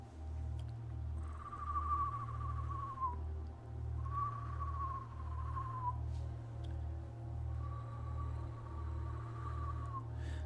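A bird's whistled call repeats in slow, clear, drawn-out notes, each gently falling in pitch, about every two to three seconds over a steady low hum.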